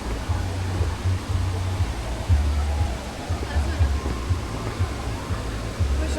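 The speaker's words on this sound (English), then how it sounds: "Oh, look at this waterfall this side." Tegenungan Waterfall in Bali gives a broad, steady roar of falling water up close, with low rumbling wind buffeting underneath throughout.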